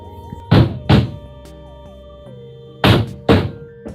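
A hammer drives 1.5-inch roofing nails into a roof board, with two pairs of loud, close thunks separated by a quiet gap while a faint musical tone hums underneath.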